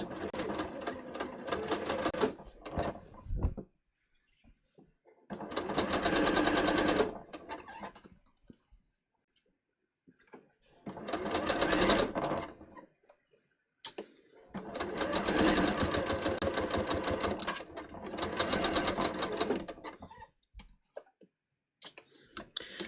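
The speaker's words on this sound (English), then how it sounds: "I'm literally just going to sew around in a circle, and I'm going to try to sew pretty close to the base of the" A sewing machine stitches in a circle around the base of a band on a bias-cut scoop-neck top, sounding in loud, close bursts of whirring with abrupt silent stops between them.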